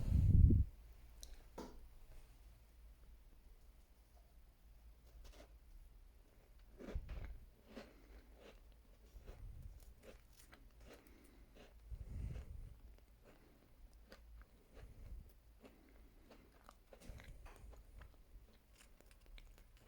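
A Halloween snack with a soft, white-chocolate-style filling is bitten and chewed close to the microphone, producing scattered soft crunches and wet mouth clicks at irregular intervals over a quiet background.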